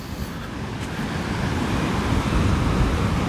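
Sea of Azov surf at Golubitskaya on the southern shore, a steady broad wash of waves rolling in without break, fairly close and loud, with a windy rumble underneath and no voices.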